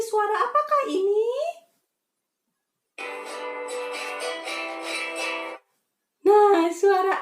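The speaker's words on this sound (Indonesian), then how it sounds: "Itu suara gitar." A guitar strums a steady sustained chord pattern for a few seconds, standing alone between stretches of an adult speaking before and after.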